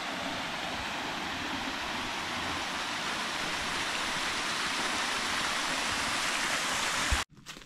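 Water rushing over rock steps at the top of a tiered waterfall and stream at Phu Kradueng, a loud, steady, close hiss that runs unbroken before cutting off abruptly near the end.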